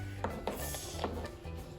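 A few sharp chops of a child's knife on a board, cutting carrots, spaced irregularly, against a low background hum.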